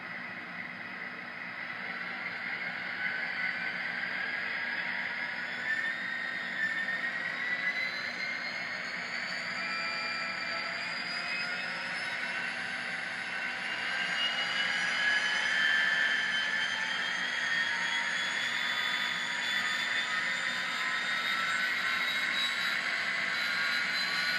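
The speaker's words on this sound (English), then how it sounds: "So it will notch the locomotive up even though it's not going to move." A model CP GMDD SD40-2 diesel locomotive's sound decoder notching up while stationary: a steady droning engine hum with a high whine rising gradually in pitch, continuous and moderately quiet, with no voices.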